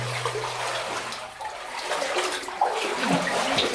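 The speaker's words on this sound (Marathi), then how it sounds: "आतमध्ये झरे आहेत, पाण्याचे झरे आहेत." Water flows steadily from springs inside a hot, enclosed temple chamber, a continuous rushing splash heard close by, with a faint low hum early on.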